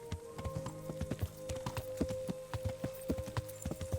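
Horse hooves clopping in Kingdom Come: Deliverance, a brisk, close and fairly loud series of sharp hoof strikes in an uneven gait, heard alone over a faint steady hum.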